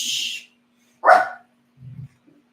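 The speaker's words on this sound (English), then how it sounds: "right now he's barking at my TV" A small dog gives a single sharp bark, fairly close, at a television indoors, followed by a couple of faint low whimpers; a soft hiss is heard briefly before it.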